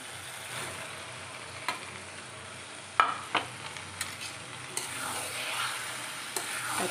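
Boiled kabuli chickpeas fry in rendered goat fat in a pan while being stirred. A soft, continuous sizzle runs underneath occasional scrapes and knocks of the spoon, heard close up with no one talking.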